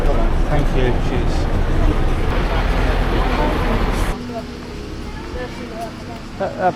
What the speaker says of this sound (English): That bus was fast.